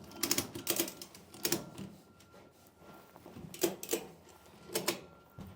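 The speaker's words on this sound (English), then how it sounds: "then just start ratcheting it into place" A ratchet strap with snap hooks is cranked tight, producing short clusters of sharp mechanical clicks in an uneven rhythm with brief pauses between strokes, close and fairly quiet.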